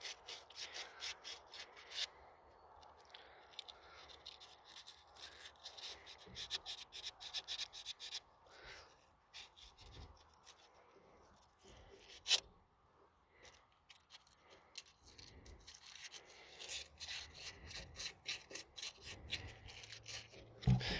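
Steady scratchy rubbing of sandpaper on tractor metal, repeated back-and-forth rasping strokes at close range, fairly quiet, with brief pauses and a sharp click midway.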